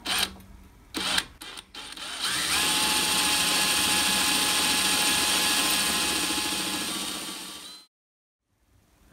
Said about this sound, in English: we've got a brand new 3mm twist drill in here